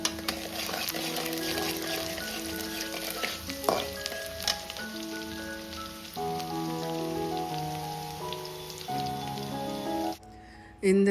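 Onions sauté in a frying pan for a carrot and broad-bean egg stir-fry, a continuous sizzle with occasional stirring clinks, while steady melodic background music plays throughout.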